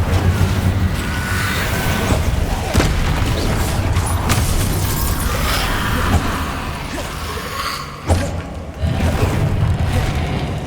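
An Incendio fire spell blasts in Hogwarts Legacy amid a continuous loud rumbling roar, with several sharp impacts and a brief dip near the end, with no talk.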